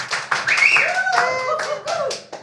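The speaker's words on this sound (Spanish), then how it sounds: "Oye, ese aplauso." Hand clapping at the close of a Spanish-language talk show, brief bursts of applause mixed with voices speaking and light laughter nearby.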